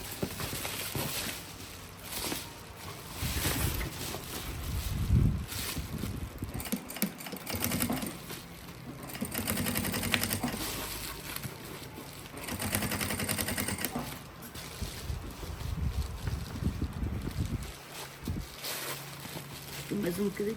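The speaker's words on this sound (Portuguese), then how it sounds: "vamos passar uma costura somente em cima do nylon" A sewing machine stitches over the nylon lining of an insulated lunch bag, running in uneven bursts of rapid mechanical clatter while a person talks throughout.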